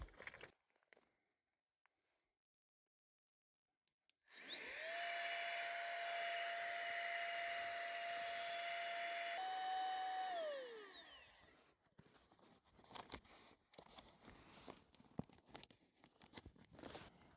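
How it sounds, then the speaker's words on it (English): Electric pump with attachments inflating a backpacking sleeping pad inside a tent, a steady high-pitched whine that starts abruptly, holds for about seven seconds, shifts pitch slightly, then winds down, followed by rustling. "it comes with a bunch of like these attachments that make it so you can blow up a lot of different sleeping pads"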